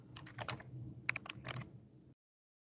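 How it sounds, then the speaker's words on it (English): Fingers type on a computer keyboard in a quick, close burst of irregular key clicks lasting about two seconds, then silence, with no voices. "simply type firmware"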